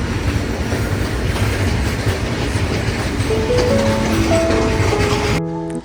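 A train passes close on a railway track, a loud continuous rumble with rhythmic wheel clatter, followed near the end by a brief high wheel squeal before it cuts off.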